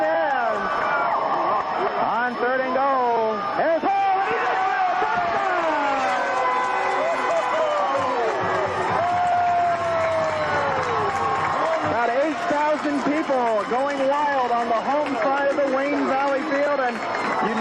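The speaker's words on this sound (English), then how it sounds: "Listen to this crowd." A roaring crowd at the 1991 Wayne Valley state championship high school football game swells and cheers continuously, loud and dense, under an excited play-by-play announcer's voice.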